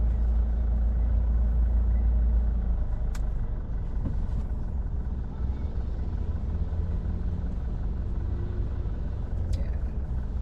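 A 2025 Mitsubishi Montero Sport with a manual gearbox and diesel engine drives through city streets, giving a steady, close interior rumble of engine and road noise that holds fairly constant, with brief clicks and faint traffic.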